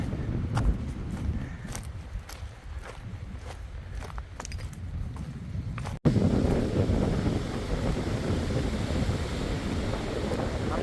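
Strong wind gusts buffet the microphone on the exposed Snake Den Ridge Trail near Cosby Knob in the Smoky Mountains, a loud, continuous low roar that swells and turns harsher partway through, with no talking.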